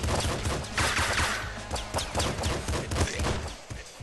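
Rapid gunfire from the video game Nuclear Throne crackles in dense, overlapping bursts, loud and sharp, with a few crash-like impacts mixed into the barrage.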